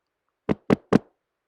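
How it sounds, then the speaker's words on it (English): Three crisp, evenly spaced knocks on a door ring out close and clear, followed by silence. "suddenly she heard a knock"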